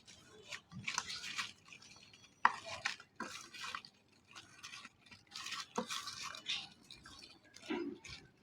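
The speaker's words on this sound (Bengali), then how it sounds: "সবগুলো ভেন্ডি ভালোভাবে হলুদ মরিচের সাথে মাখিয়ে নেব।" Okra being mixed by hand with turmeric and chili, giving soft wet squishing and scraping in a bowl, intermittent close handling bursts with brief pauses.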